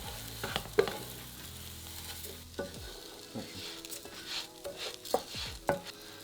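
Arborio rice stirred in oil in a pan, a soft sizzle beneath repeated scraping and clinking spoon strokes, close and fairly quiet.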